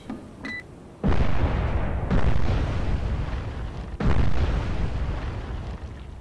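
Missile launches from a Virginia-class submarine in the Cold Waters naval combat game: a faint electronic beep, then three heavy, roaring broadband blasts that swell and rumble on, loud and close.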